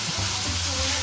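A cumin mixture with coriander and cumin powder sizzles and crackles dense and loud in a hot pan while being mixed, a brief close burst with no voices.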